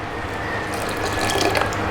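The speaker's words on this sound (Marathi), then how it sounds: "तरी आपण 100 ml पाणी आहे ते टाकून घेऊया" Water splashes and trickles steadily into dhokla batter, a continuous close-up pouring sound with faint clinks near the end.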